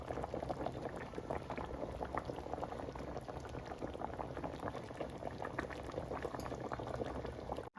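Mustard hilsa curry boiling in a pan, a steady dense bubbling and popping that runs continuously at close range with no voices over it.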